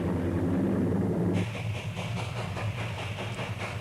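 A train on a mountain railroad passes close by with a heavy rumble and hiss, shifting partway through into rapid, rhythmic clattering of wheels over rail joints.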